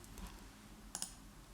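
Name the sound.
mouse click on OK button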